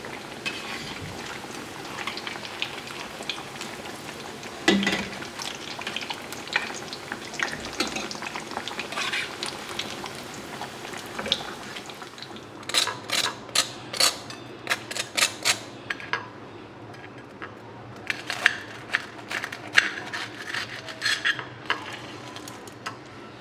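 Chicken burger patties fry gently in oil on a low flame, a soft continuous sizzle with scattered clinks and sharp bursts of spattering crackle, close, with no talk.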